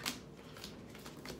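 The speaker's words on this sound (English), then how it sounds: "Normally, when I shuffle like this" A deck of Magic: The Gathering cards is shuffled up close, a quick riffling burst followed by softer repeated card flicks over about a second and a half.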